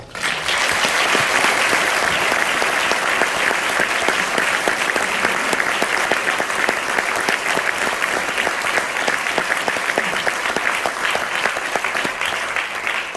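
Sustained applause from a concert-hall audience at a music lesson event, dense and steady throughout, loud and evenly sustained with no voices standing out.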